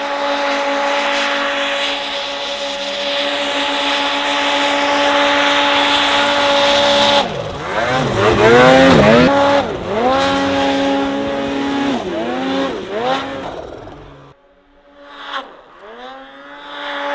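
2022 factory turbo side-by-side on a ride, a steady high engine whine giving way to a series of rising and falling revs with turbo whoosh, loud and close throughout.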